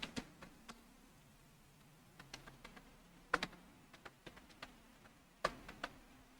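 Python code is typed on a computer keyboard in quiet, scattered clicks and short bursts of key taps, with a few louder strikes such as an enter key and no voices.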